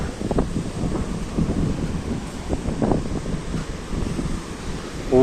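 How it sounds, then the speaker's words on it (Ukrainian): Rough Black Sea surf roars continuously during a storm in Odesa, Ukraine, with heavy wind buffeting the microphone and waves crashing nearby. "О, тут хвилі взагалі жорсткі."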